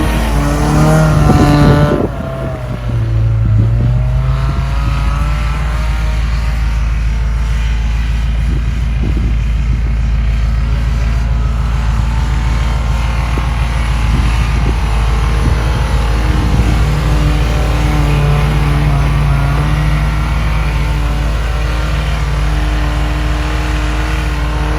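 A car with a newly fitted muffler idles and revs on a snowy day, its engine note surprisingly subdued. A short rev opens, followed by a steady, close, continuous drone with no voices.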